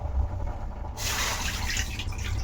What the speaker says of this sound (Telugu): ఇప్పుడు రెండు కప్పులు పాలు వేసుకుంటున్నాను